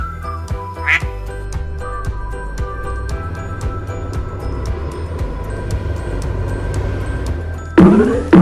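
Ducks quack on the water in a farm animal scene, with repeated sharp quacks and clicky accents over a busy background of rumbling and tinkling, ending in a sudden louder burst of noise.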